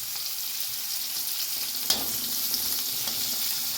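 Chopped onion, garlic and torn green chilies sizzle steadily in hot oil, a close, continuous frying hiss with a brief clink of a utensil midway and light stirring.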